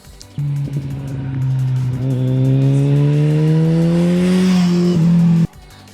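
A Kawasaki ZZR 1400 motorcycle with a Dominator exhaust and no dB killers fitted revs loud and close, its deep note climbing steadily over a few seconds before cutting off abruptly.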